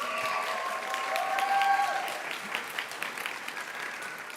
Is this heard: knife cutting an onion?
no